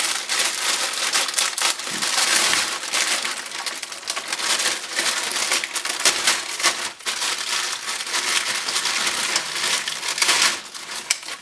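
A plastic bag holding the sprues of an SKIF T-80UD tank model kit is handled and opened, giving close, continuous crinkling and crackling with sharp snaps and rustles throughout.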